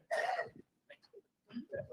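A couple of short throaty coughs or throat clearings, close by, separated by brief pauses, with some muffled voice sounds afterward.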